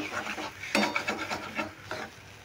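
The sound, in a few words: stirring pointed gourd with coriander leaves in a pan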